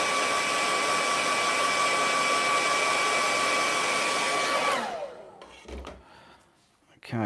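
A hair dryer blows steadily at close range while drying acrylic paint, a loud airy whine with a tonal hum that cuts off after about five seconds, leaving faint handling noises.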